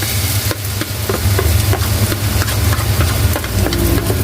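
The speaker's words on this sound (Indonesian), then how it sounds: "kita oseng-oseng dulu supaya harum" Ground garlic and shallot spice paste stir-fried in a pan, with a steady loud sizzle and repeated sharp spatula scrapes in an irregular rhythm over a low humming background, no talking.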